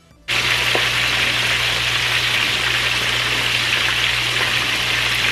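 Salt-and-pepper seasoned chicken wings frying in a pan, a loud, steady hiss and crackle of hot oil that starts abruptly and holds evenly throughout, with no talking.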